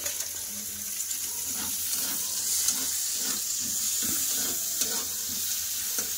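Chopped onion is added to hot oil with garlic already browning in it, producing a loud, continuous hiss of frying that holds steady throughout.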